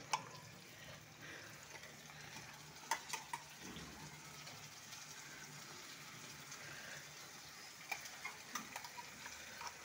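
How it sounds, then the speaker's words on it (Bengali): Garlic and onion paste frying in a pan for a fish roe curry, a faint, steady sizzle with occasional light ticks and stirring taps, heard alone without talk. "যেহেতু রসুন পেঁয়াজটা একটু ভাজতে হবে, রসুন পেঁয়াজ আমি বাটাটা"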